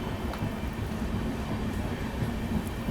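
Heard from on board, the 16057 Sapthagiri Express leaves Chennai through Perambur with a steady, low rumble of wheels and carriage, plus faint clicks over the rails and no talking.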